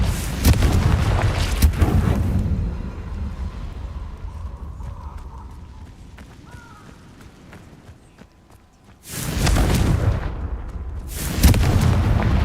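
Confringo fire spells blasting in Hogwarts Legacy combat: loud broadband explosive bursts at the start and again near the end, with a quieter stretch of game ambience between them.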